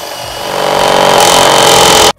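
A power drill whirs steadily to back a drywall screw out while wiring high-voltage power on a model railroad layout, winding up over the first half second, holding loud and close, then cutting off abruptly at the end.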